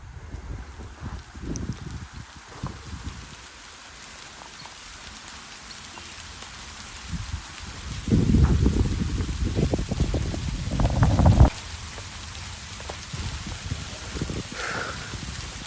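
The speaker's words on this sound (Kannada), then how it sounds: "ಗೈಸ್, ಮತ್ತೆ ಮಳೆ ಸ್ಟಾರ್ಟ್ ಆಗೋಯ್ತು." Rain falls on a forest campsite as a steady broadband patter, with a heavier, louder burst of drops in the middle before it eases back to a softer, even hiss.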